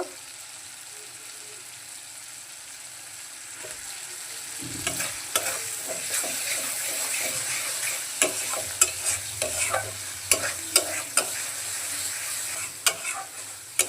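Chopped tomatoes sautéing in a spiced masala paste with oil for a Bengali tangra fish curry, a steady sizzle with repeated stirring scrapes and clicks of a spoon in the pan, close and continuous.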